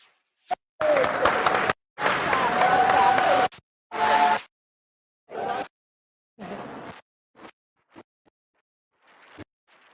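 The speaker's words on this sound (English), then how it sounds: "give another round of applause" Workshop audience clapping in choppy bursts that start and stop abruptly, with several loud stretches and then shorter, fainter patches separated by silence.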